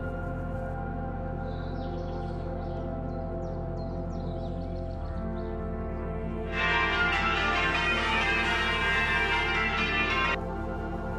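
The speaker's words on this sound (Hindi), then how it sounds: "गिरजाघर की घंटियां बजाने की आवाज़ हॉलैंड में गांव की ज़िंदगी में आम है" Church bells ring in a Dutch village, a loud, sustained peal swelling in over a steady low background hum and fading out after a few seconds.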